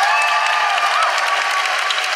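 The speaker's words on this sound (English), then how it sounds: "can I please have a huge round of applause for Chanel Miller" A live audience at a recording of a feminist comedy podcast claps loudly and continuously, a dense wash of hands throughout this short stretch with no talking.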